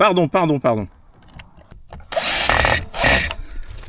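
Screws being driven back into a Lidl robot lawnmower with a power screwdriver: two short whirring bursts of the driver, each about half a second to a second, follow a brief spoken voice, close and loud.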